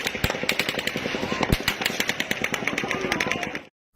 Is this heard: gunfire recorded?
yes